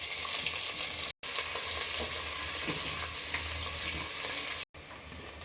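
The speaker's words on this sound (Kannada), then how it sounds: "ಈರುಳ್ಳಿನ ಒಳ್ಳೆ ಗೋಲ್ಡನ್ ಬ್ರೌನ್ ಬಣ್ಣ ಬರೋ ತನಕ ನಾವು ಚೆನ್ನಾಗಿ ಫ್ರೈ ಮಾಡ್ಕೋಬೇಕು" Onions sizzling and frying in a pan as the base for vegetable pulao, a continuous close hiss and crackle with two very brief dropouts.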